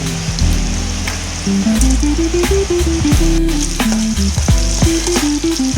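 Green chillies and mustard seeds frying in hot oil in a pan, a loud steady sizzle with crackling pops, while background music with a plucked melody plays.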